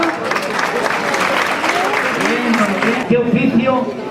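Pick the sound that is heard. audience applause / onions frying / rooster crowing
audience applause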